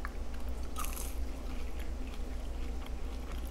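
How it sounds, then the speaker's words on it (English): Close-up bites and chewing of crunchy seasoned French fries, a few sharp crunches followed by softer munching over a low steady background hum. "Let's try some French fries."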